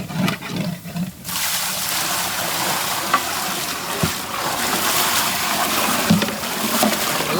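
Vegetable stock pours steadily into a simmering soup pot of white and red cabbage, bell pepper, cauliflower and chopped chicken, a continuous bubbling, sizzling wash with occasional sharper splashes throughout.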